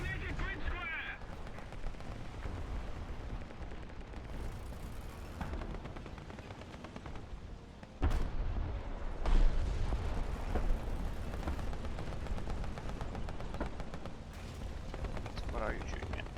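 Video game gunfire heard as a dense, steady stream of distant shots and artillery-like thumps, with a louder burst about halfway through, mixed with a voice talking over the battle.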